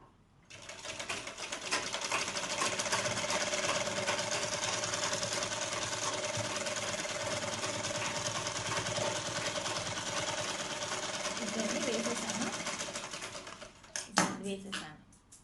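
A sewing machine stitching a long dress made from an old hand-worked saree runs as a steady, close whirring hum for about thirteen seconds, then stops with a few sharp clicks and handling knocks.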